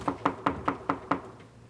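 Six firm, evenly spaced knocks land on a door, close and clear, with nothing else sounding around them.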